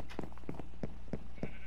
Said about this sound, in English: Yeah, we have some sheep here,